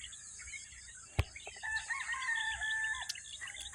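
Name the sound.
rooster crowing in the province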